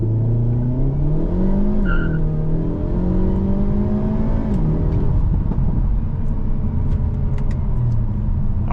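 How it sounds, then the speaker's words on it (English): A 2025 Hyundai Elantra N launches hard under launch control, its engine note climbing through a loud continuous rev with a gear change partway, ending in a steady close-up roar with faint tire noise. "setting off now in the 2025 Elantra N. Launch control is pretty cool."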